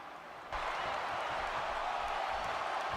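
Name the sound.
wrestling arena crowd cheering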